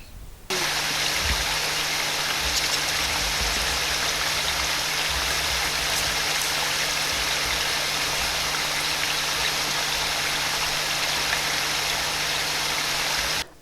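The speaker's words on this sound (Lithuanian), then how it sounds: "Taip šniokščia vanduo bebrų suneštoje užtvankoje, čia pat prie sodybos." Water rushes loudly and steadily through a beaver-built dam beside a homestead, a dense continuous roar with a faint hum beneath, close and alone.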